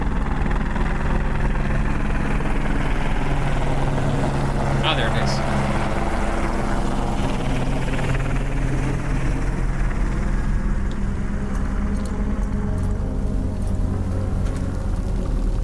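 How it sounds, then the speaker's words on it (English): A helicopter in the video game Out of Hell drones steadily overhead with a loud, continuous rotor and engine rumble that never fades, while someone briefly speaks over it. "Helicopter, but I don't see it."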